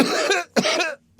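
A woman coughs in an audiobook narrator's performance, two harsh close coughs in quick succession followed by a brief intake, with no other sound around them.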